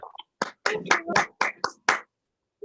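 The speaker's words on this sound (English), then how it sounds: "Please, a round of applause for the entire round of applause." Sparse applause at a Toastmasters meeting, a handful of distinct, close hand claps in an uneven rhythm, with brief silent gaps between them.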